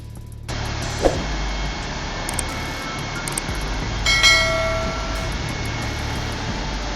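A train rumbles past a railway crossing with a steady low roar, a clang near the start and a metallic bell-like ringing swelling midway, with no voices heard.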